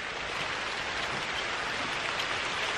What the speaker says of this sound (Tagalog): Uy, ayan na ang ulan kung kailan.